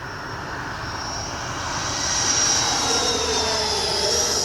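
A Freewing Avanti S V2 80mm electric ducted-fan RC jet taking off, its fan whine rising in pitch and loudness as it accelerates and climbs away, steady and fairly close, with no talk.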